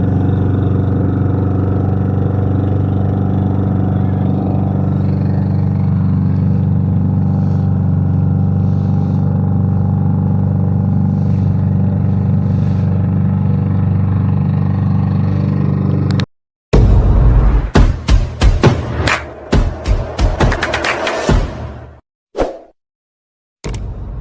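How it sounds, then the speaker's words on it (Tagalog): Motorized outrigger boat (bangka) engine droning steadily on open water on a dolphin-watching trip, loud and continuous, then cutting out into sharp splashing and clattering bursts near the end. "Yung sasakyan namin bangka."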